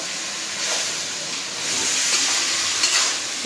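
Thinly chopped taro frying and being stirred with spice paste in a pan, a steady close sizzling hiss that swells in bursts as the pieces are turned, with no talking.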